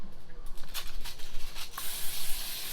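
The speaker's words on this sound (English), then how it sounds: "So what I'll do is use my spray," Cooking oil spray hisses in short bursts over a longganisa sausage being wrapped, close and fairly soft, ending in a longer continuous spray.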